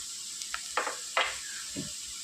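Fried cashews and raisins tipped into vermicelli upma sautéing in a pan, giving a steady low sizzle with a few soft stirring scrapes and small clinks spread across the moment.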